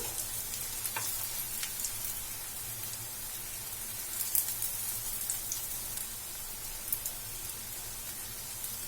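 Spinach and semolina snacks fry in hot oil with a steady, even sizzle and scattered crackling pops, heard close and alone with no talk.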